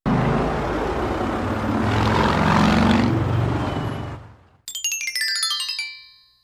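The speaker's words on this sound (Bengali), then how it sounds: "হেলিকপ্টারটা একটু নিচে নামাতো মা।" A cartoon helicopter sound effect from a Bangla fox cartoon: a loud, steady rotor-and-engine drone for about four seconds that cuts off abruptly and gives way to bright, rising tonal effects.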